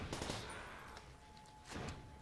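Turret gunfire in Call of Duty: World at War zombies, rapid bursts of automatic fire that are fairly faint and muffled, ebbing and returning over a steady game background.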